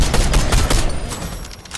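Fortnite gunfire in rapid automatic bursts, loud and close, tapering toward the end with scattered single shots.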